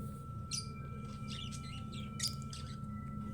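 Birds in an aviary give a scatter of short, high chirps and tweets at moderate distance over a steady low background hum and a faint tonal whine.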